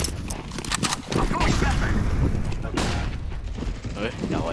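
Bursts of gunfire, including shotgun blasts, in the competitive shooter CS:GO, sharp cracks spread irregularly through a few seconds of mechanical clatter, with players talking over the action.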